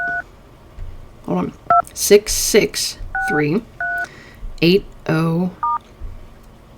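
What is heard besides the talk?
phone number dialed on keypad, DTMF tones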